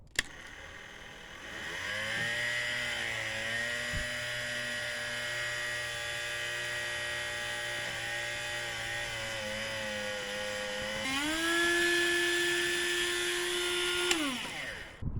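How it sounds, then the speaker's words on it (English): A rotary tool grinding clearance into the cylinder of a 224cc engine block, a loud, high-pitched continuous whine that shifts pitch as it bites into the metal, rising sharply near the end before cutting off. "So I got a rotary tool here."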